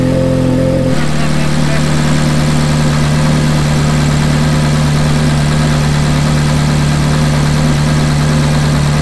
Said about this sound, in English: now just let it idle